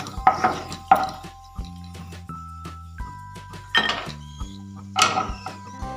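Fried dry fruits for Bengali payesh are scooped from a pan into a bowl, giving a handful of bright clinks and scrapes of utensil on metal in separate bursts, fairly close, with no talking.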